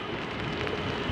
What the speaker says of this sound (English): I've been standing in this rain